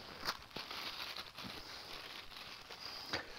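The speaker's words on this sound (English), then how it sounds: "There's a lid, very big plastic bag for a lid." A very large plastic bag used as packaging for a Ninja Nutri Chef blender lid crinkles softly and steadily, with a few sharper rustles and no talking.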